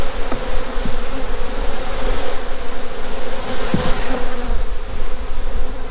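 Honey bees swarm and buzz around an open hive being cleaned of burr comb and propolis, a dense, continuous droning hum close to the listener with no voices.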